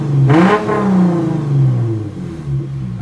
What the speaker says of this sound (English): it does remove the lag in revving the engine